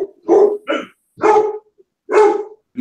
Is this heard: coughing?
no